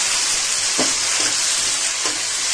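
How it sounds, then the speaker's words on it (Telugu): Gongura leaves frying in oil in a pan produce a loud, dense sizzle up close, with a few soft stirring scrapes rising out of the hiss. "గోంగూర వచ్చి వంద గ్రాములు ఇది బాగా వేయించుకోవాలి"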